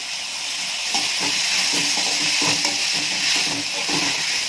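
A handful of mint leaves is sautéed in a hot pan for mint chutney. A loud, steady sizzle and hiss continues throughout, with rhythmic stirring scrapes close by and no talking.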